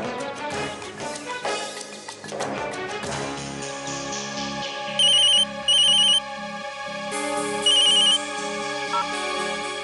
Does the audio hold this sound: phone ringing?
yes